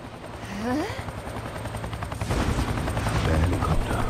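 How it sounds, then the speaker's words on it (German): A video game helicopter drones with a pulsing rotor chop that swells louder toward the end, mixed with rattling bursts like gunfire, with a brief voice early on. "Der Helikopter."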